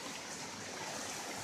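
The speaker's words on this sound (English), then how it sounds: "It's pouring rain." Heavy rain pours down in a thunderstorm with high winds, a dense, even hiss that fills the short stretch at a moderate level with no talk.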